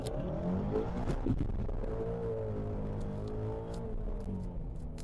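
A 2003 Mustang with traction control switched off revs and accelerates hard in first gear, a loud, continuous engine roar whose pitch climbs and wavers close by, with no talking over it.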